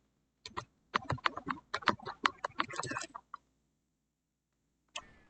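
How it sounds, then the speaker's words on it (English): A computer keyboard knocked and bumped, producing a burst of rapid, uneven clattering clicks for about three seconds, then a pause and one more isolated click; no one speaks. "Bump my keyboard."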